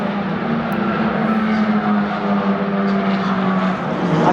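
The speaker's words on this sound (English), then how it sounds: "listening to these F1 Academy cars, they're even louder than Formula 1" F1 Academy race cars lapping during a qualifying session, a loud continuous droning engine roar heard from the grandstand, steady throughout with a slight swell near the end.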